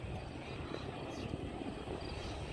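An aerobatic airplane flies a Cuban 8 at an airshow in New York, a steady distant engine drone under heavy outdoor wind noise, with no speech.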